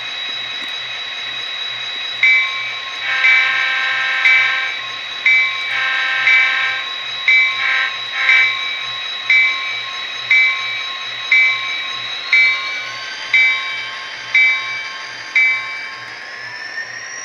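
An Athearn SD40-2 model train locomotive in Southern Railway paint running on track, with a steady electric motor whine and a regular clicking of rail joints passing about once a second.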